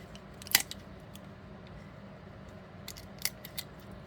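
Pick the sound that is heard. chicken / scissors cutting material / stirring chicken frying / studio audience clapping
scissors cutting material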